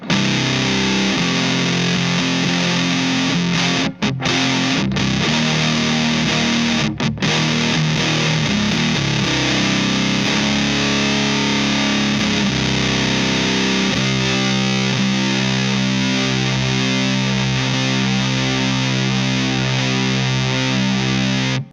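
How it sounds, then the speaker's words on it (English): Heavily distorted fuzz guitar through an O.C.E. Pedals Demon Core fuzz with its boost engaged plays sustained low chords and riffs, loud and continuous, with a couple of brief cut-outs early on. "that still sounds pretty great, but let's try it with the boost."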